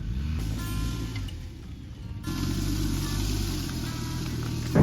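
A BMW 1250GS motorcycle rides through a loose gravel pit, its engine a steady low drone that swells louder partway through, with the throttle held even and a faint crunch of gravel.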